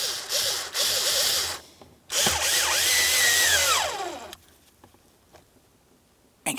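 A power tool drives in the ignition switch mounting bolts on a 2007-2014 GMC Sierra 2500 HD: two loud, close whirring runs, the second rising and falling in pitch as the bolt seats, then a quieter tail.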